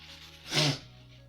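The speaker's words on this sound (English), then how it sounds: "hold on, I have to sneeze" A single short sneeze from a man, a sharp burst of breathy noise rising and cutting off within half a second.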